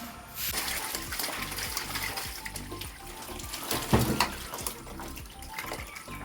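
Water from a catfish tank pours and trickles steadily as it drains out during cleaning, a continuous splashing flow with a brief louder gush near the middle.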